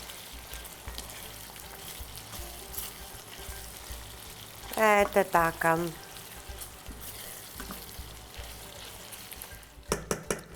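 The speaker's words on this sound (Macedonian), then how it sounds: "Додека ова уште се пржи" Food with pepper fries in a pan, giving a steady close sizzle throughout while a person speaks briefly over it.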